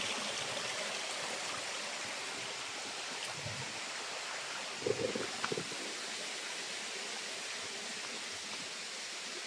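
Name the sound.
small stream flowing in a forest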